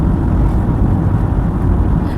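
Car driving on a road near Jaisalmer, a steady, loud low engine and road rumble that continues without a break and without speech.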